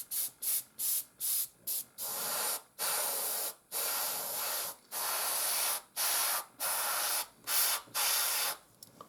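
An airbrush sprays paint onto a Panzer IV scale model in repeated short bursts of hiss, close and fairly loud, with brief pauses between passes and no talking.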